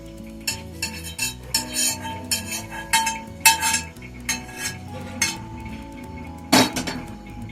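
Tamarind being strained through a sieve, with a run of metallic clinks, taps and scrapes of a spoon against the metal strainer and bowl, close and irregular, with a sharper knock near the end and no talking.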